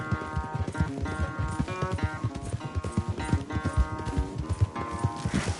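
Horse hooves clip-clopping at a gallop in a quick, uneven rhythm during a race back on horseback, mixed with a jingling musical background throughout.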